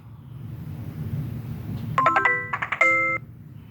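A Motorola GSM mobile phone powers on with its startup tone: a quiet hum, then a bright rising run of short melodic beeps ending in a held chime, clear and close with no talking.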